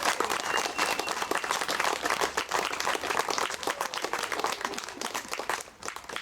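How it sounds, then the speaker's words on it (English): Wedding guests applaud the newlyweds right after the kiss, with dense, steady clapping from a crowd that holds for several seconds at moderate level and tapers slightly near the end. "Give them a round of applause, everybody."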